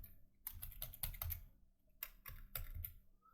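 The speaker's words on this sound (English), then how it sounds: "type watercolor" Bursts of typing on a computer keyboard, close and clear, in two short runs of rapid key clicks with a brief pause between them, no talking.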